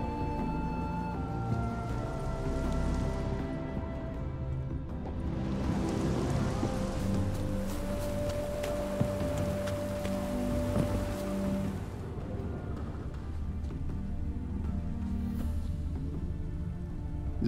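Steady rain falling in the Witcher 3: Hearts of Stone game world, a continuous wash of drops with background music tones underneath and no talking.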